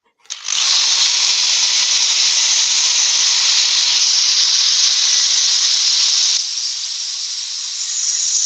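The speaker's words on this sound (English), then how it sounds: "we'll start doing some sanding" A loud, continuous sanding hiss running steadily without pause, easing slightly in level toward the end.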